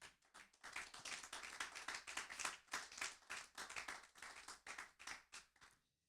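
A church congregation applauds to acclaim the King of Kings during a sermon, giving dense, steady clapping for several seconds that fades out at the end, heard faintly at a distance.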